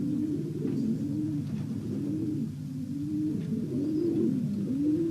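Racing pigeons coo continuously in the Vanhee breeding loft, several birds producing overlapping, rhythmic low rolling coos close by, with no talking.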